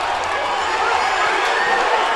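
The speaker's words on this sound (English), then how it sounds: "And the crowd's going bonkers." A crowd at a school rugby match between Paarl Gim and Bishops first XV roaring and cheering in a steady, loud wash of noise, with a commentator's voice faintly under it.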